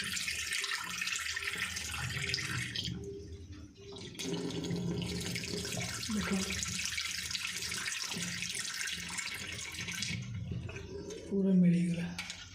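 Water runs from a tap into a sink in steady gushing bursts, with brief pauses and a louder splash near the end, while a person talks over it nearby.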